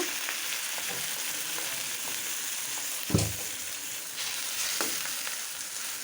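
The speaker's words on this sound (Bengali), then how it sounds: "পেঁয়াজটা ভাজে নিচ্ছে" Chopped onions sizzle in hot oil in a pan for Bengali dal, a steady, quiet frying hiss with a single louder clatter of stirring partway through.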